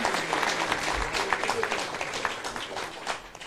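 A crowd at the 64th anniversary celebration of Osasco's central municipal market claps for the women who work there, a steady, dense round of applause with voices murmuring underneath.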